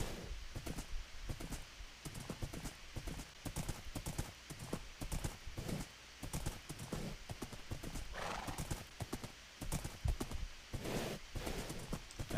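Minecraft horse trotting with a quick, regular clip-clop of hoofbeats, fairly soft and close, joined by a brief whinny partway through and no one talking.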